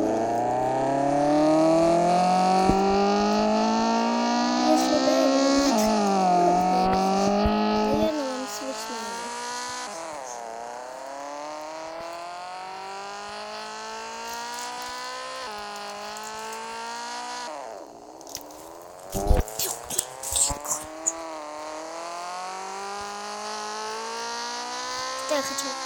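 A quiet car drives in a Roblox car simulator game, its engine tone climbing and dropping through gear changes. Loud, busy bursts of other game sounds break in near the end, and a voice speaks over it at times.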